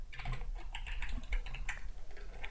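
Someone types steadily on a computer keyboard, a close, continuous patter of key clicks with a few louder strokes and no talking.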